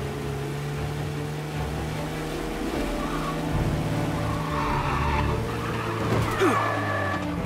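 A car in the Mafia: Definitive Edition video game drives with a steady engine drone, rising revs and tyre skids, all continuous and close.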